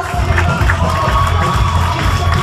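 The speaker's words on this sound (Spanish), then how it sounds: "fuerte aplauso para los chicos" Parade crowd cheering and applauding for children as the procession closes, a dense continuous roar of many voices and claps, loud and close throughout.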